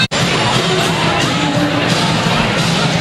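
A sellout basketball crowd of over 2,000 at a Dothan vs Northview game roaring steadily during a timeout, a broad, loud, dense wash of cheering that fills the whole moment after a brief cut at the start.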